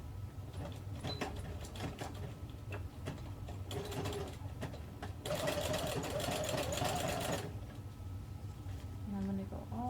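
A sewing machine stitching velcro onto a shower curtain cloth diaper cover runs in close mechanical bursts of rapid stitching, with someone talking over it.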